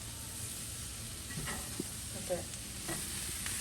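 Vegetables frying in a cast iron skillet give a steady low sizzle and hiss throughout, with a few soft stirring clicks and scrapes on top and one brief spoken remark.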